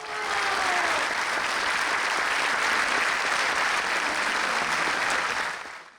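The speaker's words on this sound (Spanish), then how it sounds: "Un fuerte aplauso." Sustained, loud applause from a congress audience welcoming the president of the PIT-CNT union confederation at the opening of the III Congreso del Pueblo, steady and dense for about six seconds before tapering off at the end.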